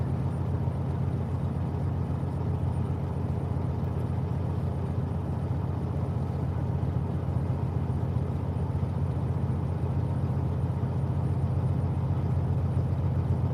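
A steady low truck engine rumble drones on without a break, heard from inside the truck, close and constant, with no voices over it.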